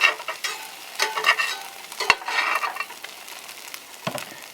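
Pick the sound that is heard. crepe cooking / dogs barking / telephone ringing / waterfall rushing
crepe cooking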